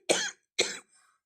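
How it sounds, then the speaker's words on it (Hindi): Two sharp, close coughs from one person, evenly spaced about half a second apart, followed by a faint short breath in an otherwise quiet room. "मुझे बहुत ज़्यादा खांसी आ गई थी।"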